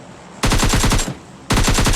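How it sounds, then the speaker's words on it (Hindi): Two loud, close bursts of rapid automatic machine gun fire come from the PUBG Lite battle royale game, each a fast rattling string of shots separated by a short pause. "एंड देख आसमान में गोलियां चला रहा है"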